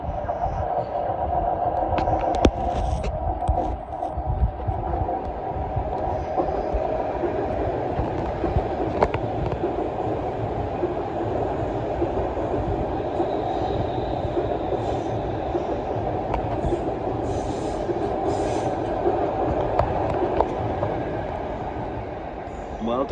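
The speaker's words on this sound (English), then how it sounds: "here comes 12 coach London North Western Railway Class 350 bound for Milton Keynes Central" A 12-coach London Northwestern Railway Class 350 electric passenger train rumbles past at steady volume, a continuous broadband roar with faint rhythmic wheel clatter throughout.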